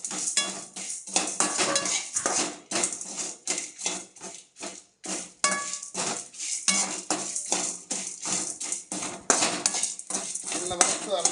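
Spices and dried berries are roasted in a pan over a low flame for vatha kuzhambu: busy metallic clinks and scrapes of a ladle against the pan, close and continuous, with only a faint crackle beneath.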